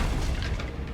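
A Confringo fire spell in Hogwarts Legacy on PlayStation 5 lands as a single heavy explosive boom that fills the whole second, loud and close, rumbling deep throughout.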